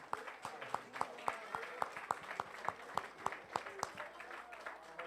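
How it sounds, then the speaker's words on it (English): A small group claps in applause for several women at a community Bible study gathering, the sharp claps steady and fairly close, with a few voices audible underneath. "let's give these ladies a round of applause because they helped you out"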